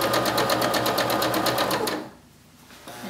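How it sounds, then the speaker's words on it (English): A sewing machine runs in a fast, steady rhythmic burst as quilt squares are chain pieced, then stops briefly before a faint restart, close and clear with no talk. "Then you're going to grab your next set of squares. You're going to put it down here and then just continue sewing along"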